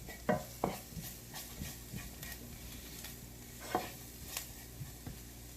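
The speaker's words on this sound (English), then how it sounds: "Give it a stir, and we will cook it for 2 minutes for the flavorings to get all soaked in" A spoon stirs potato, onion and curry spices in a pan, giving a few distinct scraping strokes and clinks over a soft, steady sizzle of frying.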